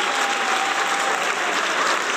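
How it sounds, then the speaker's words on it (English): Loud, dense audience applause for a guest on a talk show, a continuous wash of clapping at steady level with no voices. "One second, your applause has not come yet."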